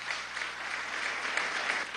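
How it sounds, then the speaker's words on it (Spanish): An audience applauds Venezuelan Paralympic medallists at a presidential tribute ceremony, giving a steady, dense wash of clapping that carries on without a break and with no voices over it. "Vamos a darle un aplauso a los 2 y se pongan de pie."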